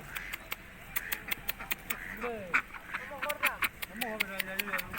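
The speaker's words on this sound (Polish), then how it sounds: "Kaczka" Ducks quack repeatedly in short nasal bursts nearby, mixed with sharp clicking sounds, at an uneven rhythm.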